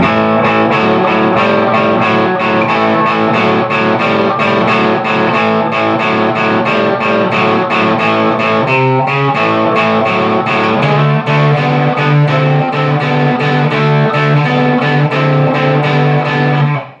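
A distorted electric guitar plays a repeating riff with steady picked notes, loud and alone, the gritty tone sustaining throughout.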